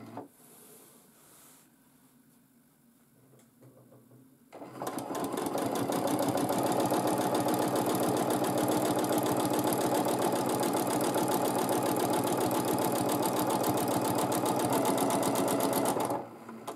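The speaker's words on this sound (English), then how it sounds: "So now I'm quilting an echo-line." A sewing machine stitches free-motion quilting along an echo line spaced about half an inch from the first, running steady and loud after a few seconds of quiet, with a fast, even mechanical rhythm.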